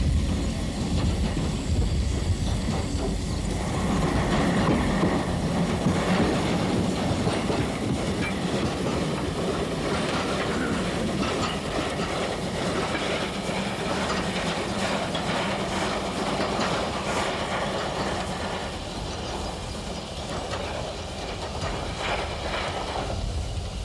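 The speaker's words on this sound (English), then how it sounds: "One of the sidings involved a switchback and a steep climb, which made shunting operations quite interesting to observe." A freight train shunting up a steep switchback siding at Chemnitz: continuous loud rolling rumble with rhythmic clickety-clack of wagon wheels and faint squeals, close by and steady throughout, with no voices.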